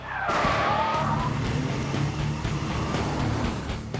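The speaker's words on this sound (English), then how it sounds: "Both cars accelerate towards the red flag of the engagement zone." Two cars accelerating together on a test course, engines roaring loud and close with a brief tire squeal at the start, a rising whine, then a sustained rumbling drone.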